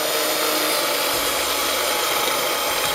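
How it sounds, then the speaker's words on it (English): An electric whisk mixes melted butter and icing sugar in a bowl, a loud, continuous buzzing whir close by that holds steady throughout. "Whisk in action."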